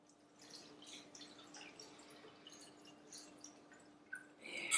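Boiled peony petal mush pressed through a cheesecloth-lined sieve, soft dripping and wet trickling up close, ending in a louder splashy squish.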